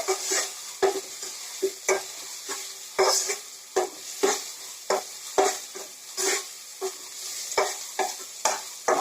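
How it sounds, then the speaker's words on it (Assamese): Onions sizzle and fry in a pan while a utensil stirs them, with sharp scraping strokes repeating steadily and close up, no voices. "এতিয়া পিঁয়াজখিনি ফ্ৰাই কৰা হৈ গৈছে"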